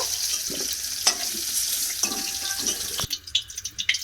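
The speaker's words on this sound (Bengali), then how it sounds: "আলুগুলোকেও আমি খুব সুন্দর করে লাল লাল করে ভেজে নেব" Potato pieces fry in hot oil in a home kitchen, a steady crackling sizzle with occasional sharper pops and stirring clatter, louder bursts near the end, and no talking.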